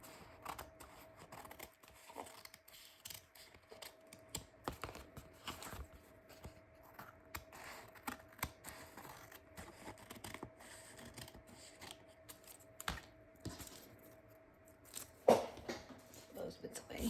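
Scissors trim the edge of a paper postage stamp for a junk journal, making quiet, crisp snips and small clicks in an irregular rhythm at close range.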